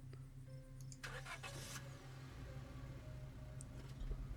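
A police squad car engine in Scarlet Hollow turns over with a short burst of starter noise, then settles into a low, steady idle rumble, faint and without voices.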